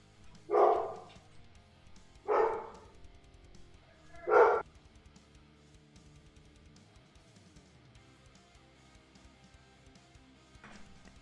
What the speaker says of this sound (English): Dog freaking out.